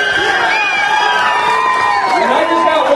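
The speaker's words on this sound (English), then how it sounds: "Big round of applause for both of them" A crowd at an Albuquerque MMA event cheers and whoops in a steady, loud roar while an announcer's amplified voice carries over it.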